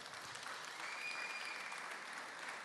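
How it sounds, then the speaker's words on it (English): Steady applause from an audience at a school modernization celebration, a dense continuous wash of clapping hands that holds evenly throughout without pause. "Let's give those guys a round of applause."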